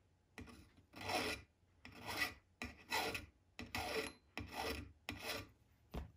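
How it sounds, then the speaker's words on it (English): A metal hand file rasps excess solder off a jewelry hollow form in seven or eight distinct, evenly spaced strokes, close and quiet with short pauses between each pass. "I'm going to file off a little bit of this excess solder here"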